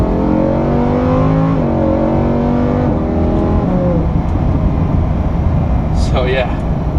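A Lamborghini Huracan pulls away and gains speed, its engine note climbing in a couple of rising steps before settling into a steady loud roar. A brief sharper sound cuts in near the end.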